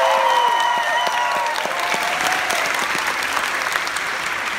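Theater audience at an opening-night Ghostbusters screening in the Hollywood TCL Chinese Theater bursting into loud, sustained applause, a dense crowd of clapping hands with a few whoops at the start, holding steady throughout.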